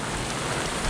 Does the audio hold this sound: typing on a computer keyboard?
no